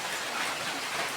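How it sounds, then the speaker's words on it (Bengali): Heavy rain falls into a kitchen, a short, steady wash of pattering drops striking surfaces, fairly close and unbroken. "এই যে বৃষ্টি পড়েছে রান্নাঘরে।"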